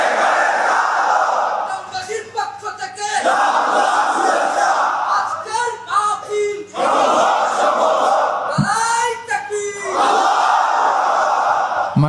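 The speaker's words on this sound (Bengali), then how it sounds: "তাকবীর পড়ুন, আল্লাহু আকবার" A large crowd at an Islamic sermon gathering chants the takbir, Allahu Akbar, in loud unified roars that rise and fall in repeated waves.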